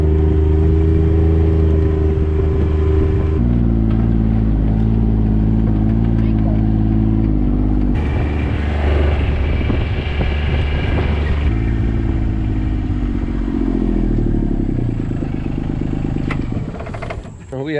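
A vehicle drives out to a deer hunting tree stand, its engine droning loud and close with gear-like shifts in pitch and some clatter from the ride, while people talk over it.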